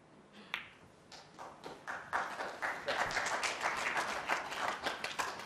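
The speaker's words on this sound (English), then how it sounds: "You got a round of applause." Scattered applause from the crowd at a snooker World Championship match, starting with a few isolated claps that build into steady, moderate clapping and hold there, heard fairly distant and alone without talk.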